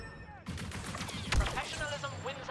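Shots from the NT242 sniper rifle in the video game Star Wars Battlefront 2, a burst of sharp blaster-like reports over busy battle noise, with a heavier thump midway and a voice partly audible.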